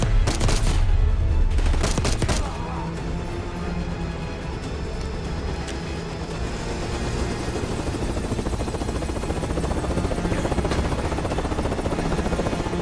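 Gunfire aimed at a helicopter pilot in Call of Duty: Black Ops 6. A dense, loud burst of shots opens the scene over a steady helicopter rotor drone, and the rotor continues alone afterwards.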